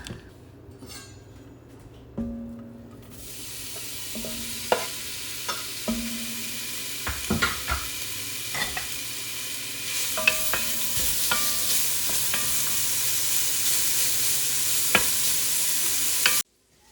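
Meat sizzles and fries in a pan as its rendered fat bubbles, a steady close hiss running throughout with stirring clatters and occasional utensil knocks.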